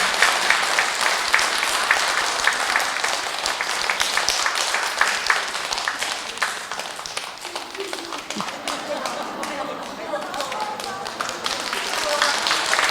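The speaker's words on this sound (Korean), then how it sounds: "뜨거운 환영의 박수로 신부님을" A congregation at a Catholic Mass breaks into warm, sustained applause welcoming a priest to the altar, dense rapid clapping filling the room for over ten seconds, with voices murmuring underneath.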